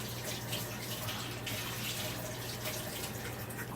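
Cold tap water runs steadily into a container for making flour-and-water gravy, a faint, even rushing stream with no speech.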